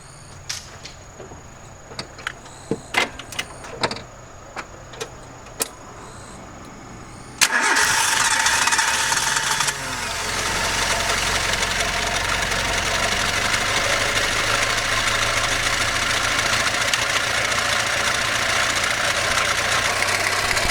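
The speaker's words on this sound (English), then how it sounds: "we'll keep cranking it and then we should get fuel through and the engine should start" A car engine cranks with a few clicks and whirs after a fuel filter change, then fires up abruptly and settles into a steady, loud idle.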